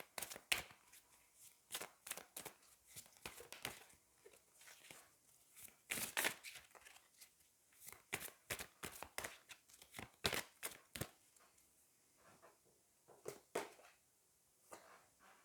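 Angel oracle cards being shuffled, a long run of crisp, close riffles and slaps in irregular bursts, moderately quiet, with no speech over them.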